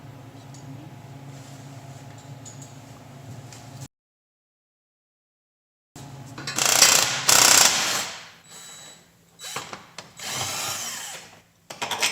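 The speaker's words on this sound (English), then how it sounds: "So now I'm just taking out the cross member bolts." A power tool whirs in bursts while removing cross member bolts from a 1983 Ford Mustang, loud and close with ratcheting, mechanical clatter between runs and a stretch of silence partway through.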